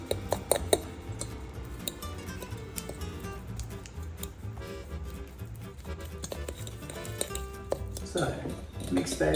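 Butter mixed into banana bread batter, a busy run of close clinks, taps and scraping from a utensil working in a bowl, steady and moderately loud throughout.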